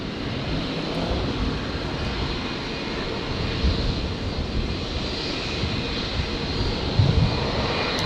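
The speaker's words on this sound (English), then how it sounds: "The 321neo arriving from Wellington." An Air New Zealand A321neo arrives from Wellington at Brisbane airport, giving off a fairly faint, steady jet engine rumble that swells slightly near the end.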